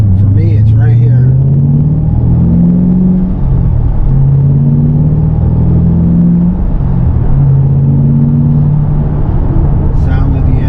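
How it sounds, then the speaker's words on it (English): A car engine hums steadily while driving, its pitch climbing and then dropping at each gear change in a repeating pattern, loud and close throughout with no pauses. "Sound of the engine, shifting the gears."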